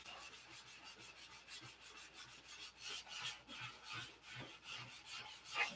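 Rhythmic rasping strokes of hand sanding on wood, quick back-and-forth scrapes repeating steadily, fairly close and faint.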